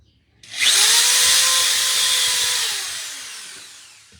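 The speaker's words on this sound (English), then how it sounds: "Gotta get that cordless drill." A cordless drill spins up sharply in a kitchen, holds a high whirring note for about two seconds, then winds down gradually, loud and near.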